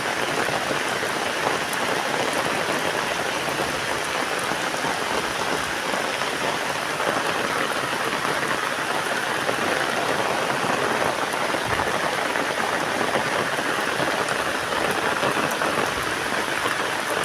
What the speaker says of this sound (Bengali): বৃষ্টি কিন্তু আগের চেয়ে আরও জোরে হচ্ছে